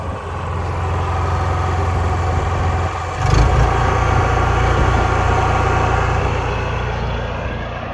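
A quiet portable generator in a mobile car wash van runs at a steady drone, then jumps to a louder, heavier engine hum about three seconds in as its efficient mode is switched off.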